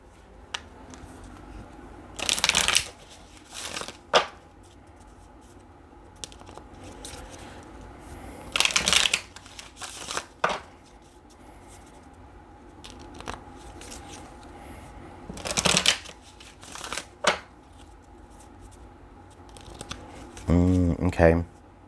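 Tarot cards are shuffled and handled in several bursts of riffling and rustling, close by, between stretches of quiet, with a person talking throughout.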